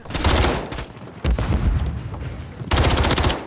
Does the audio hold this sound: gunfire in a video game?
yes